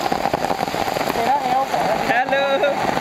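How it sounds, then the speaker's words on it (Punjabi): Heavy rain falls steadily in a residential colony in Ropar, a dense continuous hiss and patter with scattered crackling drops, while people talk loudly over it. "ਬਾਰਿਸ਼ ਹੋ ਰਹੀ ਬਹੁਤ ਜ਼ਿਆਦਾ"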